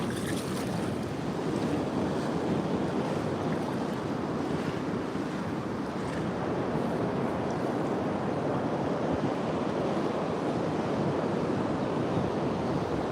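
Sea waves on a sunny beach, a constant, dense wash of surf with wind buffeting the microphone, heard alone without voices.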